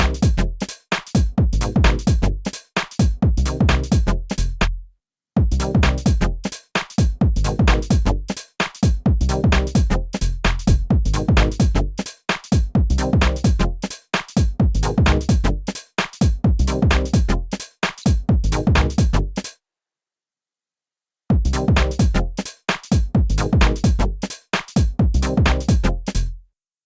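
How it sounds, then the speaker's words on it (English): Percussive UK garage-style synthesizer sound programmed in Bitwig, choppy rhythmic stabs in repeating bars that drop out for short breaks, loud and alone with no talking. "So this sound has quite a percussive kind of sound to it, and that's kind of key in the UK garage feel"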